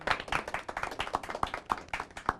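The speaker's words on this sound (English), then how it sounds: "Another round of applause for him." A small audience claps for a student debater at a live televised debate, a brief patter of hand claps with sharp individual slaps close by, thinning toward the end.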